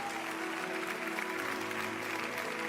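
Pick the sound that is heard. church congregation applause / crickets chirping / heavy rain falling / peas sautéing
church congregation applause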